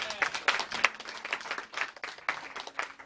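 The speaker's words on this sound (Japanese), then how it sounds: "今日のあの出演者の方々に皆さんもう一度大きな拍手" Live-house audience at a music show applauding the performers, a dense burst of clapping with a voice talking over it.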